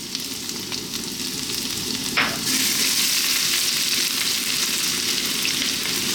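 Ginger and garlic dropped into very hot oil over high heat erupt into a loud, steady sizzle, with a brief clatter as they land, then a dense, bright frying hiss that continues unbroken.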